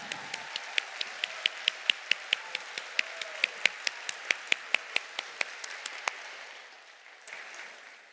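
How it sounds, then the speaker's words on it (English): Rhythmic, evenly spaced claps ring out in unison at a robotics competition district event, honoring Dean's List nominees, crisp and echoing in a large arena before fading into a low crowd murmur. "Now give a round of applause"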